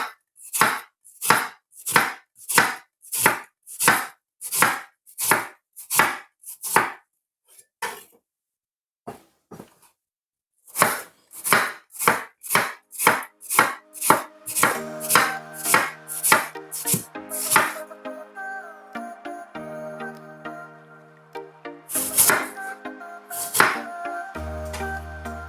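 A knife slicing apples on a cutting board while preparing apple puff pastry, a fast even run of sharp chopping knocks, then a pause and another steady series, later mixed with clinking dishes and light kitchen clatter.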